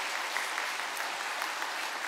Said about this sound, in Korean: 성도 여러분 박수로 환영해 주시기 바랍니다.